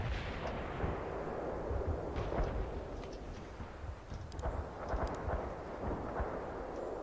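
Artillery fire support in World in Conflict, a continuous low rumble of distant barrage with repeated booming impacts and crackling blasts rolling through without pause.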